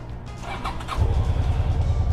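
A carbureted motorcycle engine is started: a short whirring crank, then the engine catches and settles into a steady, close, low idle.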